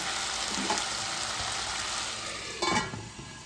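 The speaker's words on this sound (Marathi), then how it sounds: "जरा बटाटे थोडेसे क्रिस्पी होईपर्यंत आपल्याला फ्राय करून घ्यायचे।" Potatoes frying in a covered pan on a low flame for sabudana khichdi, a steady soft sizzle throughout with a few brief stirring or lid clinks, close and fairly quiet, no talking.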